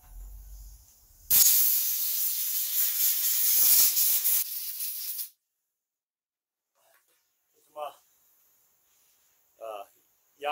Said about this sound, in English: Air gun to it. Blew it out.